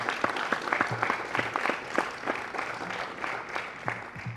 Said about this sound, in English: So I'm going to give a round of applause to our coaches here and our strength and conditioning people and you, the parents